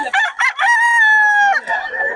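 A gamecock crows once, loud and close, in one long drawn-out call, with a short cluck or squawk before it and another brief call trailing after.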